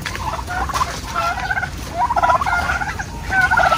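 Turkeys gobbling on a native chicken farm, repeated rapid warbling gobbles in several bursts from more than one bird, loud and close over steady background noise.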